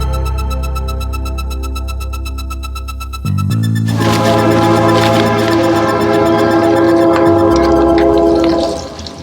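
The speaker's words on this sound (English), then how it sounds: "That's a train. I think it's a cargo train or some sort passing by." A loud, sustained freight train horn blares, then shifts pitch as a heavy cargo train rumbles past near a campsite, the horn fading near the end.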